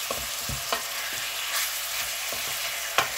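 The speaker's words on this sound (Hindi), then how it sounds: "इसको एक बार अच्छी तरह हिला दें ताकि यकजान हो जाए।" Deer meat pieces stirred in a hot frying pan for a karahi, a steady close sizzle with several scraping knocks of the spoon against the pan, no voices.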